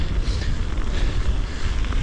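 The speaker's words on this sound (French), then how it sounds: "Notez que ça se peut que ça soit venteux aujourd'hui." Wind buffets the microphone of a DJI Action 5 Pro action camera, a dense, continuous rumbling roar that stays loud and steady throughout.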